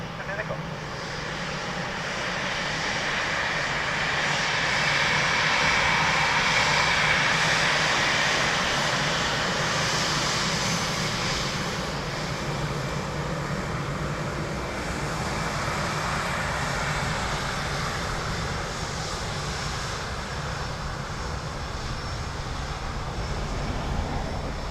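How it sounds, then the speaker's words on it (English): A Ryanair jet airliner arriving from Amsterdam at Dublin Airport gives a broad, steady engine roar. It swells and then fades slowly while filling the whole stretch, with no clear speech. "Ryanair from Amsterdam."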